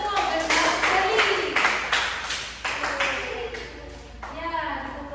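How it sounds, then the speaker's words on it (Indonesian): A classroom gives a short burst of applause for students, a dense, close patter of many hands clapping that fades slightly toward the end. "Beri tepuk tangan untuk Mas Anto dan Mas Ferry"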